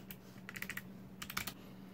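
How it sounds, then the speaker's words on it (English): Typing on an Anidees Prismatic wireless mechanical RGB keyboard, two quick bursts of close, crisp key clicks separated by a short pause, with no talking. "I can start typing"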